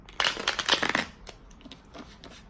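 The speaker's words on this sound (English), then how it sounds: "So I'm just going to give it a few shuffles." A tarot card deck being shuffled by hand, giving a quick burst of crisp riffling and slapping followed by softer, scattered card flicks, close and fairly quiet.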